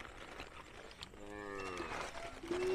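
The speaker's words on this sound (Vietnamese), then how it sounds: "Đây là cảnh người dân ta đi chăn bò về" Cattle from a herd of about thirty cows being driven home by nomadic African herders moo in long, drawn-out calls, one rising low moo swelling near the end over a soft outdoor background, with no talk.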